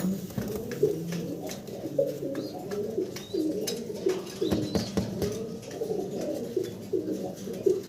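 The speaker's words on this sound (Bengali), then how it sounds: "শাহারামপুরি হাইফ্লার কবুতর" A pair of Shaharampuri high flyer pigeons coo repeatedly in a steady rhythm close by, with scattered light rustles and chirps in the background.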